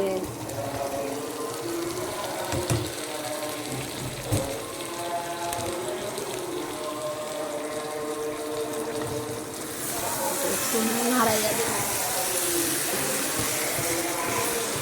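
Spice masala for koliza bhuna, a chicken liver dish, sizzles in a pan while it is stirred and fried, a dense continuous hiss growing brighter and louder toward the end, with a voice talking underneath.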